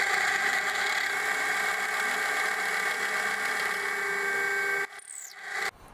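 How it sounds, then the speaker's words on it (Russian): A drill bores into a wooden blank for a marking gauge, giving a steady, droning whine that runs for almost five seconds, then stops abruptly, followed by brief scraping and clatter. "Я выставил глубину сверла так, чтобы, ну, вот только показался его кончик."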